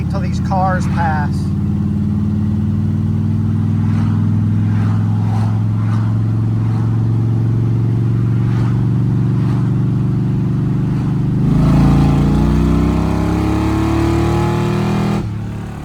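Oldsmobile Cutlass Supreme fitted with side pipes, its engine rumbling loudly up close as it idles and then revs harder near the end, with someone talking over the exhaust.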